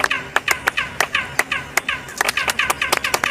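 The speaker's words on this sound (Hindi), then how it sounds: "अगर इसके सामने कोई ताली बजाए तो आपको वापस एक लेजर की तरह आवाज आएगी" Hand claps in front of the Kukulcan pyramid, each sharp clap answered by a chirping, laser-like echo, repeated a dozen or so times in an uneven rhythm, loud and close.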